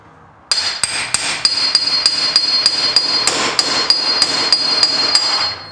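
A hammer strikes a pickle fork about a dozen times in a steady rhythm to break it free from the spindle of a Club Car DS golf cart, loud ringing metallic blows close by with no talk.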